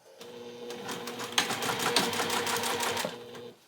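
Sewing machine running a top-stitch seam, a steady rapid mechanical whir that holds for about three seconds with a small clunk partway through, then stops.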